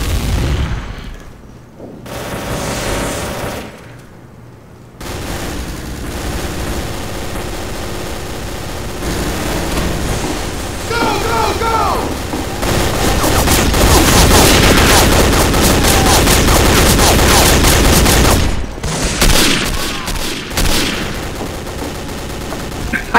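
Dense gunfire and grenade blasts from the World War II shooter Day of Defeat: Source, loud continuous bursts of rifle and machine-gun fire with heavy booms, a voice briefly audible within the din.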